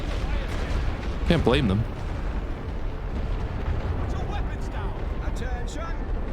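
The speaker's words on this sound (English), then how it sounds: "they see us in the open and are pounding with me with artillery here" Artillery bombardment in The Great War: Western Front, a steady barrage of dull rumbling booms and blasts that runs through the whole stretch, with someone talking over it.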